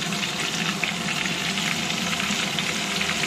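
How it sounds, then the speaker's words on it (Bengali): Chicken sizzles and fries in butter in a pan, with a steady, dense crackle held close and loud throughout, without any speech. "চিকেনগুলো এর মধ্যে ভেজে নেব।"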